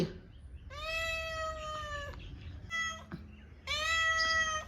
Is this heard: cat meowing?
yes